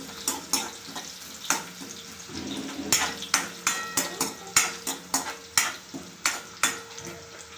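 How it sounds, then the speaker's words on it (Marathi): Onion pieces roasting in a pan, stirred with a spoon that scrapes and taps the metal in a quick, regular series of close clinks over a low sizzle. "कांद्याची पाल आपण भाजून घेऊया थोडीशी, याचा कच्चेपणा निघून जाईपर्यंत"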